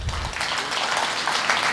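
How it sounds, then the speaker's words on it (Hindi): An audience at a Hindi poetry gathering, a kavi sammelan in Mawana, claps in a short, dense burst of steady applause with no voice over it. "तो अब आप ताली बजा सकते हैं इस बात पे।"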